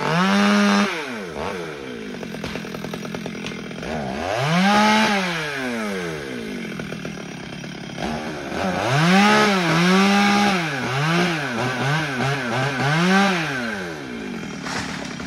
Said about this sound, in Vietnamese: cưa những cây xoài và cây sầu riêng bị chết khô